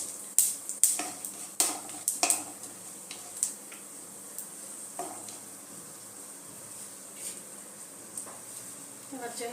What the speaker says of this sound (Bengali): তেলে আমি জিরেটা দিয়ে দিলাম, গোটা গরম মশলাটা দিয়ে দিলাম।